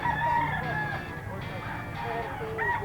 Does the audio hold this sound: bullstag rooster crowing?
yes